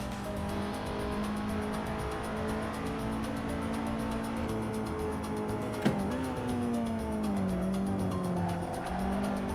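A racing video game car's engine drones steadily with a high whine, gear shifts bending the pitch up and down, and a sharp click near the middle, loud and continuous with no talk.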